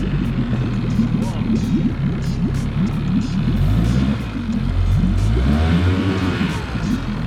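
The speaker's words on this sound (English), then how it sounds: "Give it a few revs to warm up." A boat's outboard motor revs up to warm up before a surf launch at La Jolla, its steady mid-range engine rumble rising and falling in repeated throttle pulses, close and loud throughout, with wind and surf noise around it.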